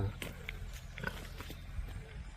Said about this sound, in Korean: 돼지 보이시죠? 돼지 농가